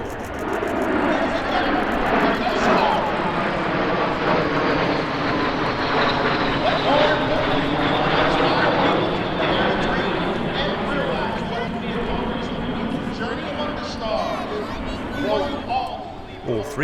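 A MiG-29 leads military jets, including Alpha Jets and L-39C Albatrosses, in an airshow display flyby, a loud sustained engine roar that swells and fades while a commentator talks over it.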